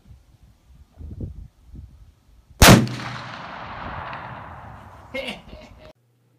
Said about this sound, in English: Getting that CVA Optima muzzleloader sighted in for our hunt next weekend.